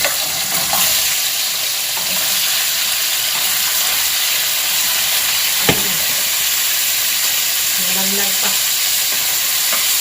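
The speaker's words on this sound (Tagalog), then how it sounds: "Lagyan ko lang siya ng mantika. Kasi mas gusto ko na ipiprito siya ng konti." Chicken feet and gizzards fry in oil for adobo, giving a continuous, even sizzling hiss up close. A sharp clatter lands midway, and a voice speaks briefly.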